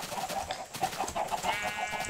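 Chickens in Minecraft cluck in a steady run of soft, repeated clucks from a pen filling with birds, moderately close, with no talk over them.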